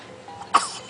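A 12-day-old baby lets out a single short, sharp sneeze up close, a brief broadband burst in an otherwise quiet room.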